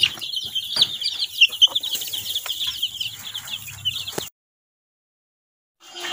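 Young laying-hen chicks, about five days old, cheep and cluck busily at close range while being vaccinated against ND-IB, with soft handling sounds, before cutting to silence.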